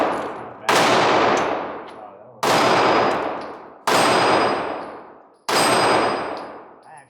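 A Glock 43 subcompact pistol with a 3.4-inch barrel fires four loud, sharp shots at a target at the range, each crack ringing out and decaying over about a second before the next.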